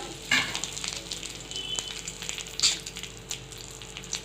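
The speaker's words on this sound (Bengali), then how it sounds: "সর্ষের তেল দিলাম, সাদা জিরে ফোড়ন দিলাম, তেজপাতা দিলাম" Cumin seeds and a bay leaf are tempering in hot mustard oil in a home kitchen. A steady, moderate sizzle of oil runs throughout with a few sharper crackles and pops, and no one is talking.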